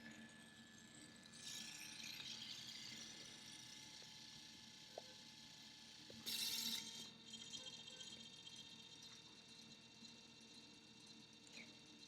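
Home photo printer running, a faint mechanical whir with small clicks and a brief louder ratcheting burst partway through, quiet and close, with no talk.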